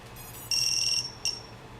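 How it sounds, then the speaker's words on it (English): Electronic buzzer on an FPV drone beeping: one sustained high-pitched tone of about half a second, then a short second beep, clear against a quiet room background. "Our buzzer's working good, so that's good."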